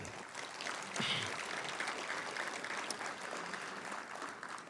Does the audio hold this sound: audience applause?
yes